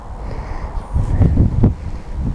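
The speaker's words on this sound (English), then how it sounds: "Might be a bit windy out here" Wind gusts buffet the microphone outdoors on an allotment, a low rumbling roar that swells and dips in short bursts, with no one talking.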